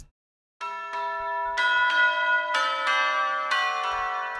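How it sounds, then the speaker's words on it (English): Tubular bells from a Visco sample library ring out in a slow, stately sequence of struck tones, each strike layering over the lingering, shimmering decay of the last. "Visco also has a tubular bells library that I used for the bells on this track."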